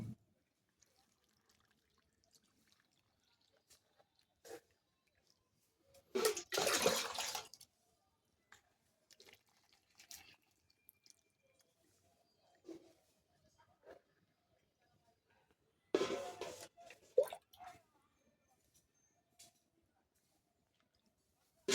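Water that has turned black is poured generously onto the soil of a freshly planted potted dragon fruit plant, giving two soft splashing bursts separated by quiet, with a few faint drips between.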